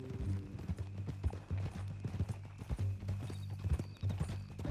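Horse hooves clip-clop steadily in the video game Red Dead Redemption 2, a close, rhythmic trotting beat with an occasional snort or whinny over a low ambient hum.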